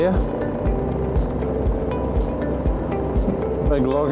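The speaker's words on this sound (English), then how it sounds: "big logging truck just went past." A big logging truck rumbles past on a rural bush road, a loud, steady low roar heard from a moving motorcycle amid engine and wind noise.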